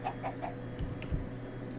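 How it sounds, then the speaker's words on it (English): A chicken clucks in a video game with a few short, quick bursts, fairly faint, over a steady low hum and background game sound. "Now, I thought I saw a chicken over here."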